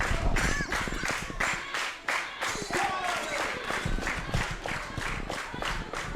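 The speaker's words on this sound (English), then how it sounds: "Bromley crowd getting behind Mikey Whiplash." A Bromley wrestling crowd claps steadily for Mikey Whiplash, dense rhythmic applause filling the hall at close range throughout.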